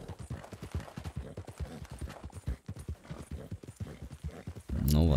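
A horse's rhythmic hoofbeats clatter steadily in a video game under a voice, with a brief burst of louder noise at the end.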